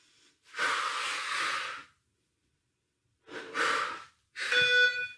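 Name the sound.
breathing during strength exercise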